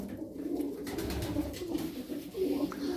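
Tumbler pigeons coo softly and continuously nearby, a low murmuring call repeating over faint background rustle.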